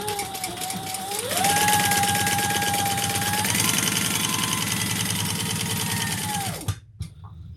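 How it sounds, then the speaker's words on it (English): A sewing machine top stitches a backpack, its motor whirring steadily with a fast rhythmic needle chatter that rises in speed and then stops abruptly near the end. "Let's do a little top stitching."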